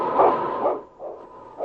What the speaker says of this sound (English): It's King, swiftest and strongest lead dog of the North Country, blazing the trail for Sergeant Preston